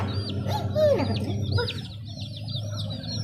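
Hens and young chicks cluck and chirp close by, short rising calls and high peeps overlapping in a quick, busy stream over low background rumble.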